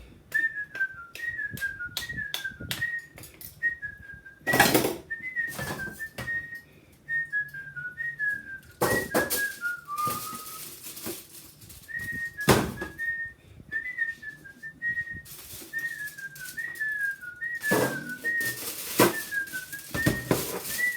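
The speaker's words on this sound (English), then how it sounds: "I'll whistle while I'm doing it" A person whistles a melodic tune while working in a home kitchen, a steady run of short rising and falling phrases throughout, accompanied by intermittent thuds and clatter of baking preparation.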